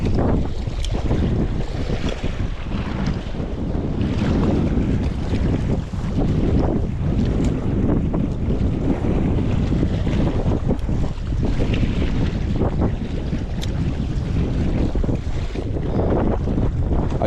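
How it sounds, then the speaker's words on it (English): Strong wind gusts across open lake water where someone is casting for rainbow trout, with waves pushed around. A continuous, heavy, rumbling roar of wind buffets the microphone throughout, and no one speaks. "I'm casting right into the wind, which is definitely affecting my casting distance."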